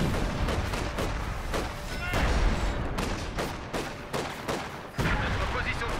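Sustained rattling gunfire and crackling volleys from the video game Company of Heroes 2, with a dense battle din and repeated sharp shots over several seconds.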